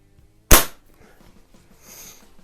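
A single sharp crack from a pump pellet air rifle, a Sheridan Blue Streak or Crosman 100 in .177 or .20, fires close by and decays quickly, followed by a faint rustle.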